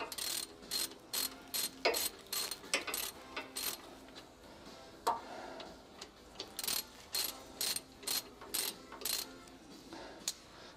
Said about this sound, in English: Now that we got a 13 millimeter, let's go ahead and tighten this guy up.